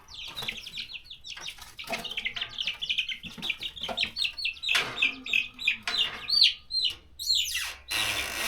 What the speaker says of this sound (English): That's the other rooster.